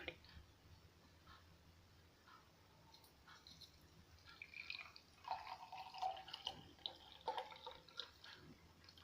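Homemade ghee poured from a vessel into a bottle gives a faint trickle with scattered drips and small glassy clicks, quiet and close, becoming busier toward the end.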